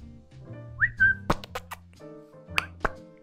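A rising whistled bird call from the IKEA bird in Minecraft, sounding a couple of short bright chirps over soft game music, with a few plopping clicks in between.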